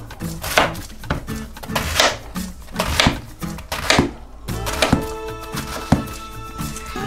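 Cabbage chopped with a knife on a wooden board for Southern fried cabbage, a steady run of loud, close thunking strokes, about a dozen in a brisk uneven rhythm.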